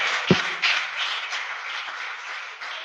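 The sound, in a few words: congregation applauding in church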